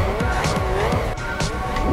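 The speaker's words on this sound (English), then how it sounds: "when you're on the track driving these cars, well, that's a different story" Race cars launching on the track in Gran Turismo for the PSP, with engines revving loudly and tires squealing and skidding in repeated bursts as the field pulls away.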